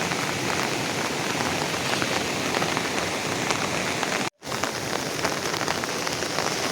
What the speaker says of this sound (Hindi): अब देखो कितनी बारिश हो रही है